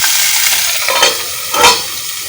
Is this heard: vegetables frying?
yes